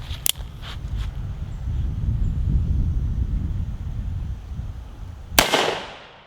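A Colt Python revolver fires with sharp, loud cracks: a couple of quick bangs near the start and one strong shot late on, over windy outdoor rumble.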